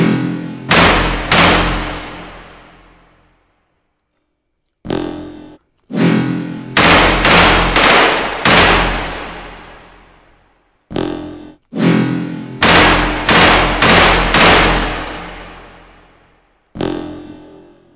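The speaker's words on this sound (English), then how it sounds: "but I've got a machine gun." A machine gun fires in the VR shooting game Hot Dogs, Horseshoes & Hand Grenades: loud, close bursts of rapid shots, several in a row, then short pauses and a few clipped bursts.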